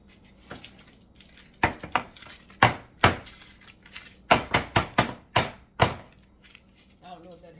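A baking tray of red lentil crackers slides into an oven with a string of sharp, close metallic clanks and knocks at an irregular pace, with no voices.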